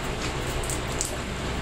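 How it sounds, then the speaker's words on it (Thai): Rain falls steadily in a rural Thai setting, a soft, even hiss of drops throughout the short moment, with no voices. "ฝนตกแล้ว"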